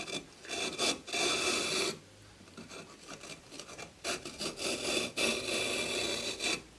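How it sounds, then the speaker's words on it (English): A pad saw rasps as it cuts lines into a soft kiln brick, making close, gritty strokes in uneven bursts with a short pause near the two-second mark before the sawing picks up again. "if you cut those lines out with the pad saw"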